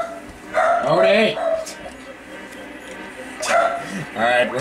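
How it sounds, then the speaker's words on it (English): Indoors during a Banjo-Kazooie game session, a dog gives two separate bursts of sharp barks and yips, fairly close, with quiet game sound between them. "Alright, we're gonna see what he's barking about."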